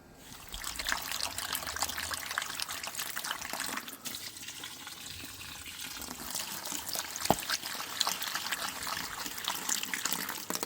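Water trickles and sloshes continuously while gold is panned outdoors, a close, steady liquid wash with occasional small splashes and no talk.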